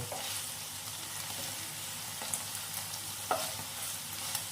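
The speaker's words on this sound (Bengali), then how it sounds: "পনিরটা এক পিঠ ভাজা হয়ে গেছে, অন্য পিঠটা উল্টে দিলাম।" Paneer sizzles steadily in hot oil in a pan, with occasional soft scraping and taps of a spatula over the continuous frying hiss.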